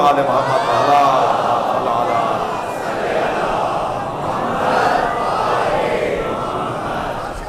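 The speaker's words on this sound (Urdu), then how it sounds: "صلوات پڑھیں ذرا محمد و آل محمد۔" A mosque congregation in Karachi recites salawat together at a majlis, a loud, swelling wash of many voices chanting in unison that rises and falls in long waves, filling the hall.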